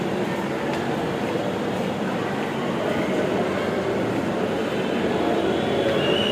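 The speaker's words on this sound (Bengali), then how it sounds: "মেট্রো রেল এসেছে" Metro rail train pulling into a station, a steady mid-level rumble and hum of wheels and motors with light rail clatter, heard close by amid faint background voices.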